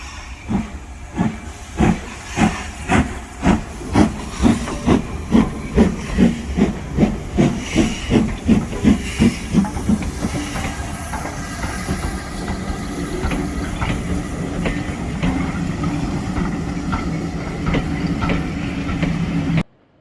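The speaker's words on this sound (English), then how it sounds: "let's get Eric Tracy on the track and see how she does" Rhythmic chuffing of a sound-fitted Hornby LMS Black 5 model steam locomotive with hissing steam, regular puffs gradually blurring into a continuous hiss, fairly close and steady.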